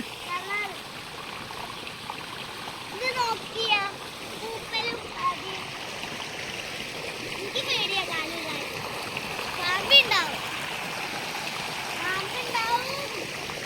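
People jumping into a river in Kerala in the evening, with faint splashes and flowing water heard under excited talk and shouting from a child and adults, moderately distant.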